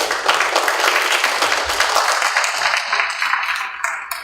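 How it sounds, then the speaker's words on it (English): Audience applause closes a panel talk at an art event, a dense, steady wash of many hands clapping close by that holds loud for the whole stretch and then tapers slightly at the end. "Please, I think there's a good round of applause."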